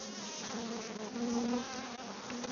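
Honey bees at an open hive buzz in a dense, continuous swarm drone, close and steady, with individual bees rising in pitch as they pass near.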